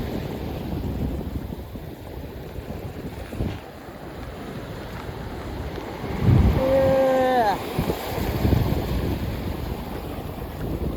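Steady wash of waves and wind rumbling across the whole stretch, with a brief harmonic whine and thumps midway over the constant surf.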